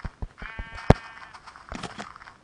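Sheep bleat in the Minecraft video game: a few short, sharp game bleats come through clearly, mixed with clicky in-game sound effects.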